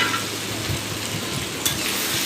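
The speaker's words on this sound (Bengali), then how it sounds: "ভেজে তুলে রাখা সবজিগুলো এর মধ্যে অ্যাড করে দেব।" Previously fried vegetables go into a hot spiced pan for a Bengali lunch thali, giving a steady, moderately loud sizzle with light stirring scrapes and one brief sharper clatter near the end.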